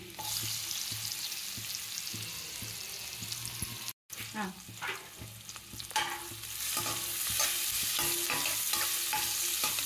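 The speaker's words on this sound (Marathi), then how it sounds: "चिरलेलं आलं, आणि कांदा टाकते आता।" Chopped ginger, garlic and onion go into hot oil on a tava for pulao, a soft steady sizzle with a short dropout, then brighter crackling and repeated scraping stirs near the pan.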